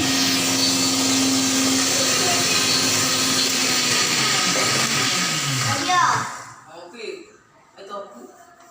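A mixer grinder whirs loudly and steadily while grinding a dried fish chutney, then cuts off near the end, leaving faint clatter and a few voices in a home kitchen.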